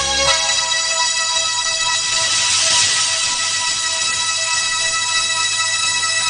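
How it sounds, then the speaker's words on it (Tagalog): Phone ringing in a dubbed Korean action film, a loud, sustained electronic ringtone with bright tonal layers lasting the whole few seconds, no talking over it. "ang telepono!"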